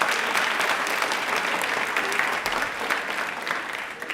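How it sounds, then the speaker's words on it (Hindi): A loud burst of audience clapping fills a hall during an Indian Railways quiz programme, many hands beating in a thick, continuous patter that stays strong and only eases slightly toward the end. "तो एक बार तालियां बजा दीजिए इनके लिए जोरदार वाली"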